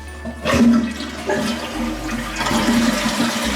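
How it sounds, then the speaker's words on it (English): A toilet flushes just after a new wax ring has been fitted, a loud close rush of water swelling and then settling into steady refill gurgling, with no talk. "I'm gonna flush it and I'm gonna see if there's water coming out again."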